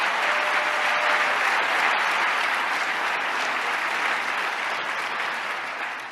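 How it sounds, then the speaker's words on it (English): Sustained applause from a large audience at the New York State of the State address in 2019, a dense, steady wash of clapping that stays loud throughout and fades slightly at the end, with no voices over it. "Let's give him another round of applause, Speaker Carl Heastie."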